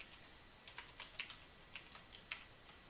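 Light, quick keystrokes on a computer keyboard, tapped in an irregular run of a dozen or so soft clicks, quiet and close with no voice.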